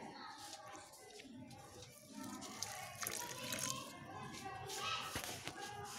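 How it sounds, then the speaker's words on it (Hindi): Cow dung water poured into a small compost pot on a balcony, a steady splashing, trickling pour with a few drips, heard close and under a person talking. "काउडंग का पानी है"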